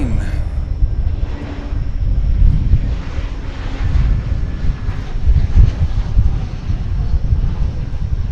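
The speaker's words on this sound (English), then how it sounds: "We have a plane." Fixed-wing airplane passing over at Dallas/Fort Worth airport before sunrise, a steady broad engine roar that swells and lingers for the full stretch, with a speaking voice faintly audible under the noise.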